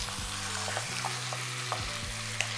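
Bacon frying in a small pan after being turned over, a steady close sizzle with occasional pops and soft scrapes of a utensil, no voices.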